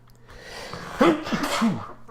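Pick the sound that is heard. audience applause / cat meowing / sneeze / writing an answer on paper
sneeze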